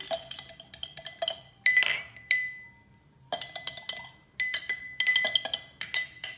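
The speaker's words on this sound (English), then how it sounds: "Going to stir that now." Ice rattles and clinks against a glass as a Sazerac of rye whiskey and Peychaud bitters is stirred, bright clattering bursts broken by short pauses, close and alone.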